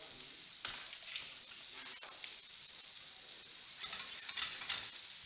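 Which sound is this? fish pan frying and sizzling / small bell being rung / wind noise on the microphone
fish pan frying and sizzling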